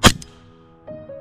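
One sharp, loud crack of an airsoft pistol shot striking a chronograph, with a short tonal ring fading after the impact.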